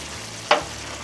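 Onions and celery for an Italian caponata being stirred in a pot give one brief scraping sizzle, a short burst standing out from a quiet, steady background hum.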